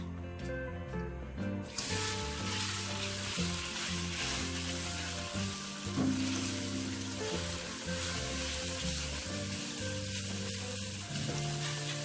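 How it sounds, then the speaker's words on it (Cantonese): Rice noodle rolls pan-frying for a soy sauce stir-fry, giving a steady, continuous sizzle close by for the whole stretch. "先煎一煎佢先啦。"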